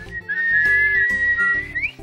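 A person whistles one sustained, slightly wavering tone for about a second and a half, loud and close over a rhythmic background music beat.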